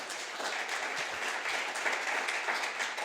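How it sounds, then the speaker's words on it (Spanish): Audience at a panel discussion on Latin American populist right-wing politics applauds a speaker, steady dense clapping at moderate volume, without talking. "un aplauso para Rodrigo"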